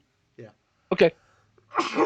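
A player at a tabletop role-playing game session gives a single short, sharp sneeze, heard between brief bits of nearby conversation.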